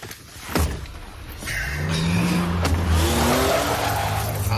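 A car in a radio drama starts up and pulls away, engine rising in pitch as its tyres squeal, loud and close throughout with no talk.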